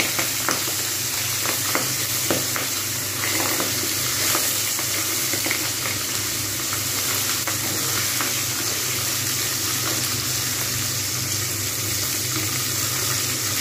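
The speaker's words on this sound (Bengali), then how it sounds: "এক পিঠ হয়ে গেছে মাছ ভাজা, আমি ওই জন্য এবার আরেক পিঠ উল্টে দেবো।" Pabda fish fillets frying in oil over medium-low heat in a home kitchen, a dense continuous sizzle and crackle close up, with faint handling and turning sounds and no voices.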